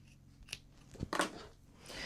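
Scissors cut fabric for a small sewn pincushion, giving a few quiet, close crisp snips spaced across roughly two seconds with nobody talking.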